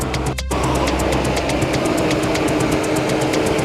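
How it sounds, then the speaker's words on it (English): A train pulls into a station in Thailand on the line toward Bangkok, a loud steady rumble with rhythmic clicking of wheels over rail joints close by, building after a brief dip at the start. "Ah, here comes the train."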